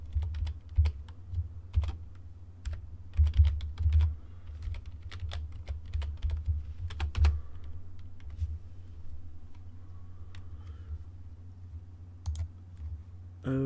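Keys clack on a computer keyboard as a master password is typed, a close, irregular run of crisp taps with short pauses between bursts.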